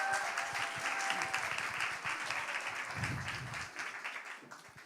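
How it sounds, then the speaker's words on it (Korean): An audience at a Christmas rally event in Korea applauds steadily to welcome a speaker, a dense, even wash of many hands clapping that continues throughout at moderate volume. "큰 박수로 맞이해 주시면 감사하겠습니다"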